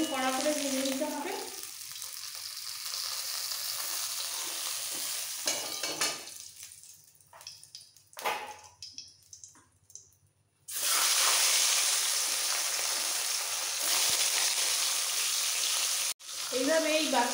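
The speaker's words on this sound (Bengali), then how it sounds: "এরকম কড়া করে ভেজে নিতে হবে।" Fish heads frying crisp in hot oil for murighonto, a close sizzle that drops away as pieces are lifted out and then returns loud and steady, with some brief talk.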